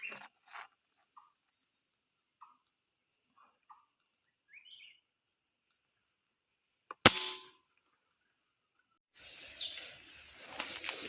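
A single sharp crack of a bird-hunting shot in Thai forest scrub rings out loud amid quiet ambience of faint insect chirps and scattered bird calls, followed by rustling movement.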